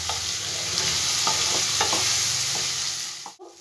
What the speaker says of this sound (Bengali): এটা আবার একটু আমি ভালো করে ভেজে নেব